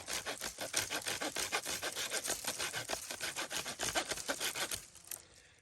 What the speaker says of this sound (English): So let me trim this limb off.